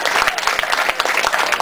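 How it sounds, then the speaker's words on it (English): An audience at a live show applauds for performer Amanda Duncan, a dense burst of many hands clapping together with some crowd noise mixed in. "let me hear a big round of applause for her"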